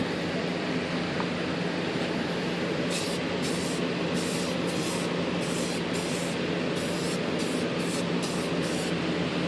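Light coats of spray paint go onto RC glider parts for a Volantex ASW-28, with short hissing spray bursts in a quick, repeated rhythm over a loud, steady broadband noise.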